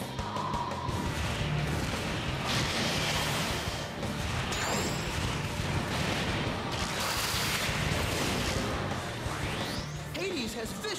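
Hades fires vicious shooting attacks in a Bakugan: Defenders of the Core battle, loud blasts, crashes and whooshes piling up over a dense, noisy game soundtrack.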